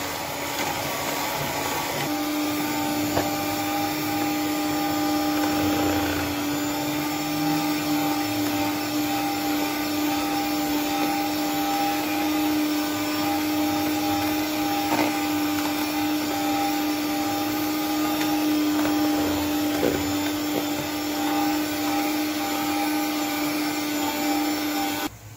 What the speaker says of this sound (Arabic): انا غادي نبقى نبدا نطرب وديك الساعه نحصل على مورينغ